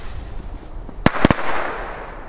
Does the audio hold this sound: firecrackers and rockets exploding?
yes